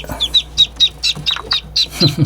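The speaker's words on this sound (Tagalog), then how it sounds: "Ang kikit ng mga sisiw." Newly hatched young chicks cheep in quick, high repeated peeps, a close and lively run of chirps with a few soft lower sounds mixed in.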